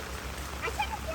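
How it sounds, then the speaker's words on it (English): Heavy rain pours onto a greenhouse roof in a dense, steady hiss of drops, close and continuous, with a person's voice faintly over it. "you get like a ton of rain as I dodge"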